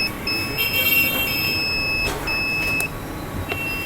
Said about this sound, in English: You have to press the down button to turn off the alarm.